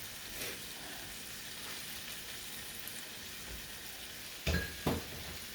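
Spicy pumpkin pork noodles sizzle steadily in a pan while being stirred, a constant frying hiss with soft scrapes and two sharp clanks of utensil on pan near the end, close, no talking.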